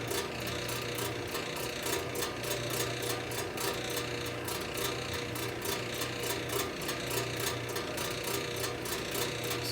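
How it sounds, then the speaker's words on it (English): Steady, continuous grinding rasp of a drill bit cutting into metal for a generator exhaust, loud and close, with a rhythmic pulsing texture and no talking. "go slow with the tip of the drill, because the tip of the drill will cut it"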